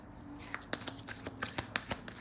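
Tarot cards being shuffled by hand, making a rapid run of crisp riffling slaps and flutters, close and fairly soft, with no talking.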